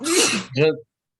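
A single sharp human sneeze, loud and close, in two quick bursts, a breathy intake followed by a voiced explosive release, then silence.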